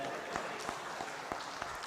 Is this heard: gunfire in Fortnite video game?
no